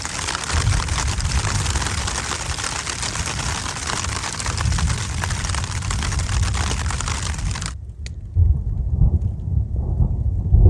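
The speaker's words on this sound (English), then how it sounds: "Lots of rain." Steady, loud rain pours during a storm in Washington on a solo Pacific Crest Trail hike, a dense hiss that cuts off abruptly, then returns as a lower, softer wash.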